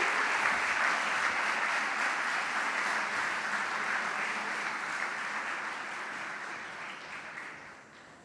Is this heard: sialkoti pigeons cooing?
no